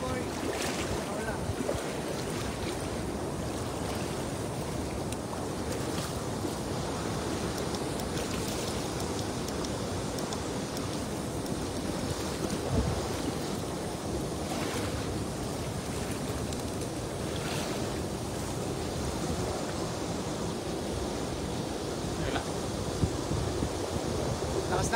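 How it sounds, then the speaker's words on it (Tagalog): Strong wind roars steadily against the microphone out on the water during a fishing trip, a dense continuous rush with buffeting gusts and faint wave and boat noise underneath. "Lakas ng hangin."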